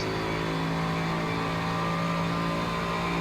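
IMSA race car at Mid-Ohio under partial throttle out of a hairpin, a steady droning engine note with strong harmonics, held at an even level for a few seconds with no voices.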